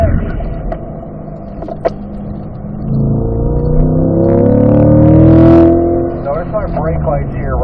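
A car on a race track engine note shifting after a downshift into third gear near turn 6, a steady close drone swelling to a louder rising roar midway, then easing, with occasional talk over it.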